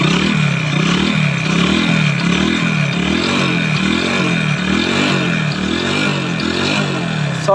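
Hero Glamour motorcycle engine idling after a rebuild with new piston and rings, heard up close and loud, a steady rhythmic chugging pulse with a light mechanical clatter on top, and no one speaking.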